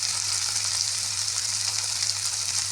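Tomatoes fry in a pan while being stirred, a constant close sizzle and hiss with no break and no talk.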